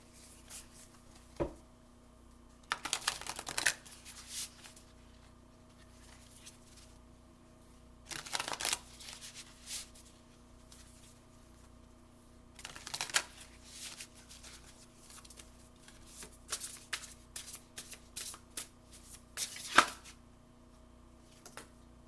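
Oracle cards from a spiritual abundance deck shuffled in several separate bursts of crisp riffling and flicking, close and moderately loud, with quiet pauses between the bursts.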